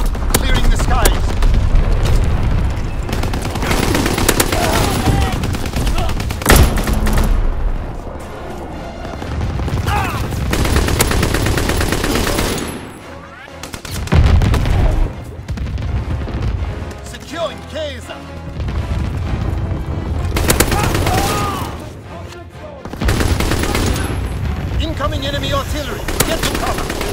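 Flak guns firing at enemy aircraft in Call of Duty WWII, with heavy booming bursts and rattling fire filling the scene, broken by short lulls, plus battle noise and voices underneath.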